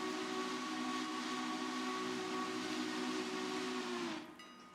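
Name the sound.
steam locomotive whistle, from video game Railroader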